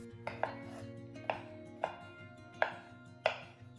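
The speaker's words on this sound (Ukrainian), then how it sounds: "для начинки нарізаю печериці невеликими шматочками" A knife chops through mushrooms on a board in five evenly spaced, crisp strikes, close and quiet, with no talking.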